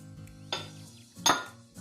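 A utensil clinks against a bowl while banku flour mixtures are mixed: two or three crisp, close metallic taps in an otherwise quiet kitchen.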